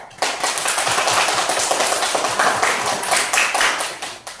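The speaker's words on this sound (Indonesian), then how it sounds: "Sekarang beri tepuk tangan kelompok 3-nya." A classroom of pupils clapping for a group of classmates, a dense, lively burst of many hands clapping close by that keeps going for a few seconds before tapering off.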